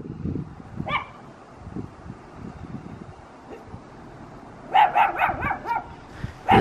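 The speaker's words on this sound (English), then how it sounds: "This dang dog, guys." A dog barks in a quick run of sharp yips close by near the end, after a quieter stretch of faint rustling and an earlier single yelp.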